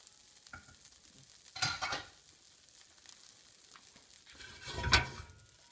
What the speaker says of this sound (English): So what I've got going there is about a tablespoon of butter that we've added to our pan where our sausage was.